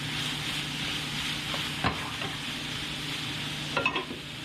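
Vegetables stirred into ground turkey in a hot pan, with a constant close sizzle and a couple of brief scraping and tapping strokes from the spoon, no talking.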